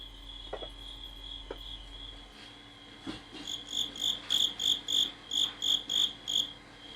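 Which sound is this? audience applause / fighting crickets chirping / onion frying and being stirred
fighting crickets chirping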